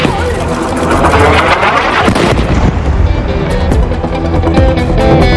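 An explosion in Deir al-Balah, central Gaza: a loud, sustained roaring blast with crackling debris and rumbling, harsh and close, filling the whole stretch.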